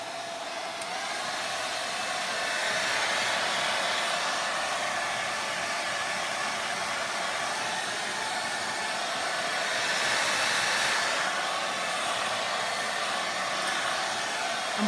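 A blower blasts loose chunks of dried milk paint off a surface in a steady, loud, continuous rushing hiss that swells slightly midway, with no voices.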